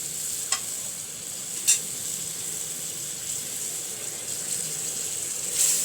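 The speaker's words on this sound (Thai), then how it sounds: "กะทิเสร็จแล้วผัดน้ำพริก" Green curry paste is stir-fried in coconut milk in a wok for a Thai beef green curry, giving a quiet steady sizzle with a few faint scraping stirs, close and without talk.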